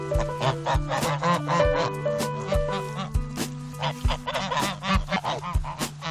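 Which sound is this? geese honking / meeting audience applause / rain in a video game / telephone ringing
geese honking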